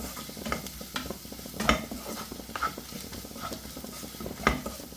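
A spoon stirs powdered garam masala and green chillies in a frying pan, making soft scraping strokes and a few sharper clinks against the pan over a faint sizzle.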